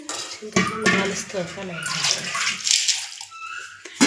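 Water is poured over tamarind in a vessel to wash it, a close splashing pour with clinks of a pot and a voice speaking over it.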